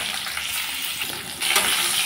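Ridge gourd pieces lightly frying in hot oil in a pan make a dense, steady sizzle that swells briefly louder near the end, heard close up with no talking.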